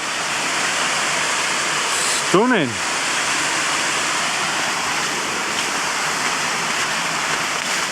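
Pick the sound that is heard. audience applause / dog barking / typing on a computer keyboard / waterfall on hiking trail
waterfall on hiking trail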